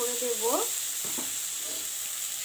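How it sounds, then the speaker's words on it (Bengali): Vegetables frying in a pan for a Bengali tarka, with a steady close sizzle and hiss and a few brief scraping stirs, no talking. "দেখো সবজিগুলো ভাজা হয়ে গেছে।"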